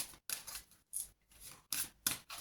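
Tarot cards being cut and shuffled, giving several short crisp papery riffles and snaps in quick bursts, close and fairly quiet with no talking.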